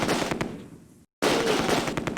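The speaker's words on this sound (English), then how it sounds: "Let the machine gun team fire again" Machine gun fire in the Close Combat: A Bridge Too Far war game: a dense, rapid rattle of loud shots that cuts off briefly to silence, then resumes just as hard.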